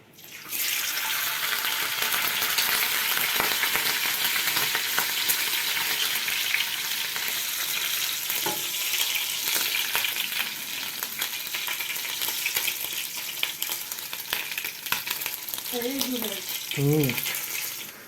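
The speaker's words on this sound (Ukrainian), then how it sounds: "Зараз ми починаємо готувати бекон." Steady crackling sizzle of bacon frying in a hot pan, continuous and fairly loud, with a few faint clinks and a brief sound near the end.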